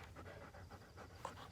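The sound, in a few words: dogs panting while playing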